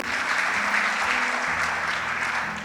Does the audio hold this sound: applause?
yes